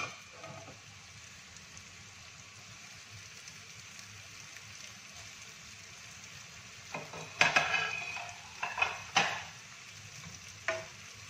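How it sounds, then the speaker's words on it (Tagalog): Vegetables for vegetarian lumpia stirred in a pan, a soft steady frying hiss with a few louder scraping, clattering stirs bunched near the end. "Haluto na po ang ating vegetable."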